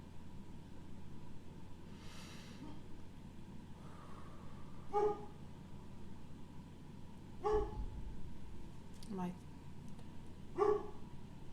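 A massive dog barks at a squirrel from some distance in a home, a few separate sharp barks spaced several seconds apart over a quiet, hissy room background.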